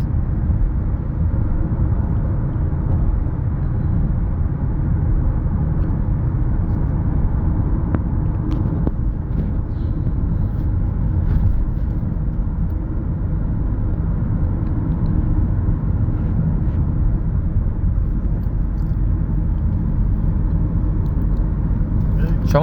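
From inside, a Honda Vezel Hybrid cruises at over 90, a dense, constant roar of road and engine noise filling the cabin while voices talk over it.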